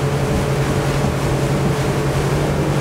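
A Nimbus T9X boat motor drones steadily under rushing water and wind noise as it accelerates, a loud, constant hum close at hand.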